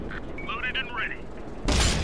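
An FV4004 Conway tank cannon in a video game fires and strikes enemy armor, a sudden loud boom bursting in at the end after a stretch of quiet radio-like chatter and tones.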